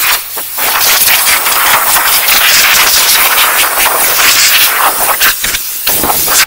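A compressed air blow gun blasts loud, continuous hissing air over the wheel of a Suzuki Wagon R, with short breaks and bursts at the end.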